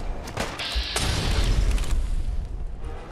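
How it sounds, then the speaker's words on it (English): In Fallout 4, a sniper rifle fires a single heavy, booming shot with a sharp crack, followed by a mechanical metallic clack and a low rumbling tail that fades out. "let's try the sniper rifle"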